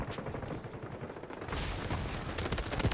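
Automatic gunfire in the shooter Delta Force: rapid, sustained bursts of close shots that grow louder and denser partway through, with no voices.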